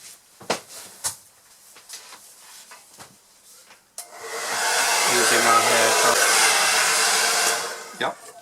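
A hair dryer blows steadily on a watercolour painting, a loud, close, continuous whooshing roar lasting a few seconds. Scattered small knocks and handling sounds come before it, and it cuts off abruptly.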